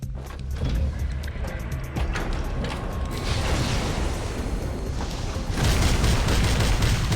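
A crackers-and-fireworks attack in the video game Reverse 1999 brings a rapid string of popping crackles, then a dense rolling crackle and booms that grow louder toward the end, with no speech.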